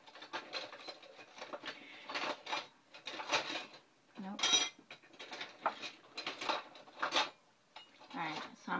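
Someone rummages through a kitchen cutlery drawer hunting for a tablespoon, producing repeated bursts of metallic clinking and clattering of silverware, fairly close and moderately loud, with brief pauses between handfuls.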